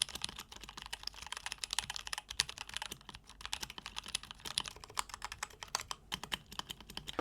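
Steady typing on a Keychron K8 mechanical keyboard, a dense run of crisp, close key clicks with small pauses, alone and fairly quiet.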